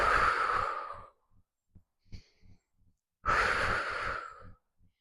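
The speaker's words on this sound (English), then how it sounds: "You can exhale through the mouth." Two long, audible exhales through the mouth during a mindfulness breathing exercise, each a breathy rush lasting about a second, separated by quiet pauses with small soft breath sounds.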